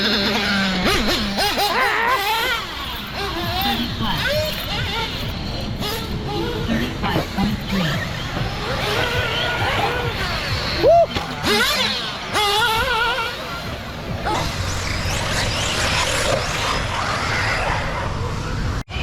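A Sworkz Apollo II 1/8 scale ready-to-run RC race buggy drives around, giving a steady buzzing, whining motor note that rises and falls as it moves, with scattered clatter and rough ground noise throughout.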